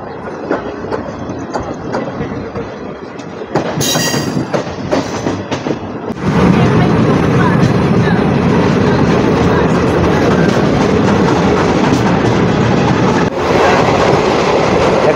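A DEMU passenger train on the Agartala-Karimganj line (75679) pulls out of Jirania station. A loud, steady diesel rumble and rhythmic clickety-clack of wheels swell after a quieter start and hold close by.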